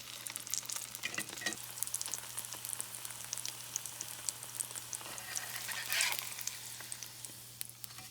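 Food frying in hot avocado oil, a steady crackling sizzle with scattered sharp pops running throughout, close and even, with a brief louder flare of spitting near the end; no talking.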